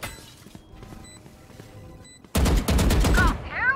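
A swarm grenade goes off in a tactical shooter game, bursting in suddenly after a quiet stretch with a dense run of rapid, sharp popping blasts that stay loud to the end, followed by whirring sweeps.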